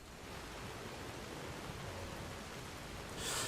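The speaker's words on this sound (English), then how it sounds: "Well, it's been raining constantly." Steady, dense hiss of rain pouring down in the fantasy game Enderal, a Skyrim mod, constant and even throughout with no voices, swelling slightly at the very end.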